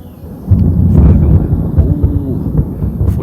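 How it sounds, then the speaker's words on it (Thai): Thunder rolls in a deep, loud rumble near a rocky hillside at Phu Sing, swelling after a quiet start and continuing in low, uneven waves with wind buffeting the microphone. "ฟ้าร้องแล้วนะครับผม"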